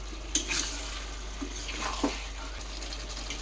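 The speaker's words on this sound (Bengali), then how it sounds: "এখানে দেখো এই যে মাটনটাকে খুব সুন্দর করে কষিয়ে নেব।" Mutton being stir-fried in a pan for a kosha curry, with a soft background sizzle and a few scraping stirs of the spoon against the pan, fairly quiet and without talk.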